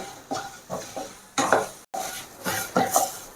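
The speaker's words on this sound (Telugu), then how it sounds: "ఇవన్నీ బాగా ఫ్రై చేసుకుంటాము." Urad dal, coriander seeds and cumin are stirred in a hot pan for spicy prawn powder. A spatula scrapes the pan in repeated strokes over a soft sizzle, close and without talk.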